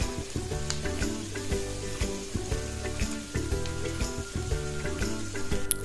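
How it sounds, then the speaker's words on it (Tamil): Chilli parotta pieces frying in hot oil in small batches, a close, loud, crackling sizzle with brief stirring breaks and pops throughout. "கொஞ்சம் கொஞ்சமாக போட்டு பொரிச்சு எடுத்துக்கோங்க"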